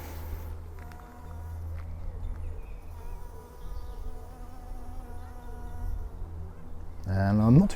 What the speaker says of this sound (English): I did hear a bee or something then.